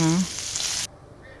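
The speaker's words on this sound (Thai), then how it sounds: "ผัดหมูให้สุกไปเลยนะคะ" Fatty pork neck stir-fries in a pan with a soft, moderate sizzle that cuts off abruptly near the end, preceded by a brief tonal blip, with no clear talk.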